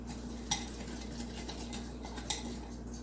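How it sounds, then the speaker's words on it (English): A whisk stirs ketchup and brown sugar in a bowl, giving faint soft scraping with two sharper clinks against the side, quiet and close with a low hum beneath. "I'm just going to whisk it around a little bit, kind of get all the brown sugar into the ketchup."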